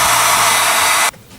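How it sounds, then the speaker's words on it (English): A hair dryer blows with a loud, steady whoosh up close while working on horse trailer wiring, then cuts off abruptly near the end. "Check out my hairdryer."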